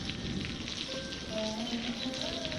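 Rain falling as a sound effect in a flood story, a soft, dense, continuous hiss of drops hitting a surface, fairly faint and steady with no break.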